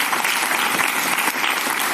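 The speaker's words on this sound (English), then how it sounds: "And clapping again." An audience claps steadily throughout, a dense, fairly close sound of many hands with no voices over it.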